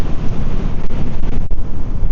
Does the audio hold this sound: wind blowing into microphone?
yes